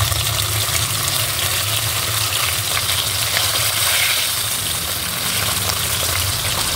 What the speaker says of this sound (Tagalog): Ayan guys, mainit na yung ating mantika, kaya tayo maglalagay na ng ating isda.